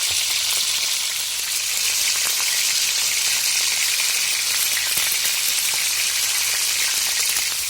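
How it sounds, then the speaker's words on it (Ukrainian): Pork belly and potatoes fry in oil in a pan, a steady dense sizzle with crackling pops running loud and continuous throughout, with no talk. "До підчеревини закинули картоплю і обсмажуємо гарнесенько все."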